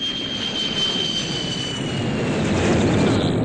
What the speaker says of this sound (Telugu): అదిగో ఫ్లైట్ సౌండ్ వచ్చేస్తుంది.